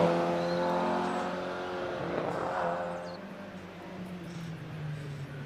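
A Triumph TR4 sports car with removable roof and rear screen racing up the Prescott hill climb course, engine note rising and then falling as it passes nearby, with steady harmonic drone throughout.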